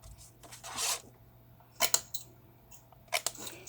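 Scissors cutting small rectangular paper tabs for a holiday house gift box, heard as a few short crisp snips and rustles spaced apart, close and fairly quiet over near silence.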